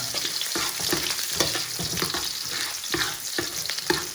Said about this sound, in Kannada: ಚೆನ್ನಾಗಿ ಫ್ರೈ ಮಾಡ್ಕೊಂಡಿದ್ದೀನಿ ನನಗೆ ಗೊತ್ತಿರೋ ಪ್ರಕಾರ.